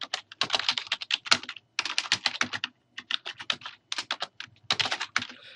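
Close-up typing on a computer keyboard while writing an MLA-format essay header, with quick bursts of key clicks broken by short pauses and no voices.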